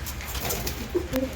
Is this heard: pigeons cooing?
yes